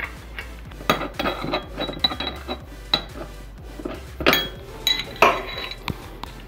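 Crank arms come off a mountain bike during a 1x conversion, heard as a close series of metallic clanks, ratchety clicks and tool clinks in irregular bursts, loud and with no talking.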